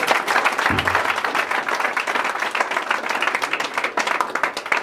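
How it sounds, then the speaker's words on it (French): A church congregation applauding to acclaim the Lord during a Friday program in Divo, Côte d'Ivoire, with dense sustained clapping from many hands throughout and a brief low thump near the start. "On acclame le Seigneur"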